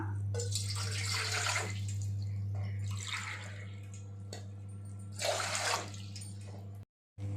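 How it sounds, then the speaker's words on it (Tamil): Two tumblers of water splash into a pot in a few short pours separated by pauses, with a low steady hum in the background. "இப்போ வந்து நம்ம ரெண்டு டம்ளர் தண்ணி சேர்த்துக்கலாம்"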